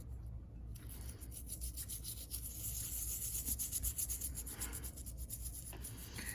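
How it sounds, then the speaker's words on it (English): A brush scrubbing the chassis of a vintage Aristo-Craft Camelback 0-4-0 model locomotive soaked in isopropyl alcohol, a close, steady bristly rubbing with quick back-and-forth strokes that grow slightly louder midway. "Get it all isopropyl alcoholed up. And we'll scrub down this chassis."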